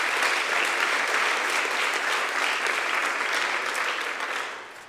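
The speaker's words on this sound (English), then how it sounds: "So let's give those folks a round of applause." A church congregation applauds in a sustained, even burst of many hands clapping at moderate distance, holding steady before tapering off at the end.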